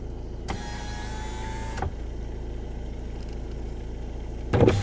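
A driver-side power window motor on a VW Golf 7 runs as one steady electric whine lasting just over a second and ends with a soft thunk. A quiet car interior hum follows, then a brief clunk.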